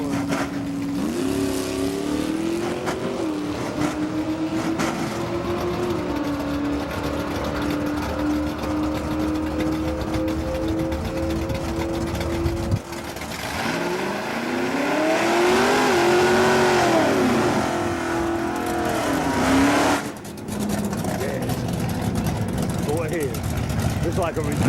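A 1974 Chevy Nova race car with a 406 engine revs at an event, its pitch rising and falling in sweeps before surging louder near the end, while people talk over it.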